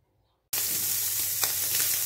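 Bacon strips cook in their own rendered fat without oil, for eggplant rolls with cheese. After a moment of silence, a loud, steady sizzle and crackle starts up close and carries on without pause.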